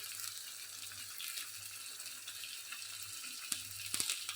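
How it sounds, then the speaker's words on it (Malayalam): Goan-style mackerel deep frying in a pan gives a steady soft sizzle of hot oil throughout, with a few brief louder crackles and pops near the end. "നന്നായിട്ടങ്ങ് ഡീപ്പായിട്ട് ഫ്രൈ ചെയ്തെടുക്കണം കേട്ടോ."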